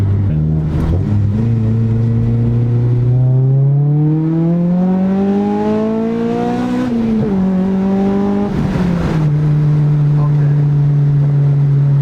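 Acura RSX Type S with a Kpro tune accelerating hard, engine pitch climbing steadily through the revs with a VTEC rise, dropping at a shift and climbing again, loud and close from inside the car.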